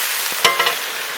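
Fried rohu fish pieces go into a pan of potato curry, giving a brief sizzle and a few scraping stirs over a steady frying hiss, close by with no talk.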